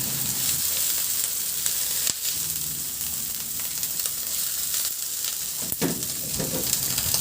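Tomato and dried shrimp fry in a pan with a constant close sizzle, broken by a few sharp clinks and a stirring scrape partway through.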